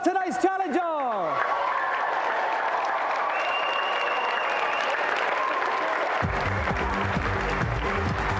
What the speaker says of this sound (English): give a round of applause for tonight's challenger